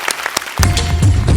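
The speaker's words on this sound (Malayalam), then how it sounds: "നമ്മുടെ സംസ്ഥാന സമ്മേളന വേദിയിലേക്ക് ഒരു ഉഗ്രൻ കൈയടി കൊടുക്കാം" Audience applause greets a performer at a stage show; it swells suddenly from quiet scattered claps into a dense, loud, sustained burst with no talking.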